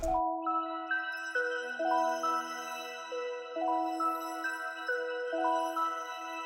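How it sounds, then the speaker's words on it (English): Bell-like synthesized tones play a slow melodic sequence, each note ringing out and overlapping the next in a wash of reverb, clean and alone. "another bell tone"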